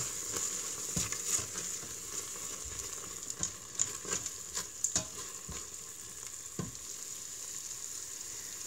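Spices with garam masala and chili powder sautéing in an Instant Pot for rajma, a quiet continuous frying hiss with scattered soft pops and stirring scrapes, no voices.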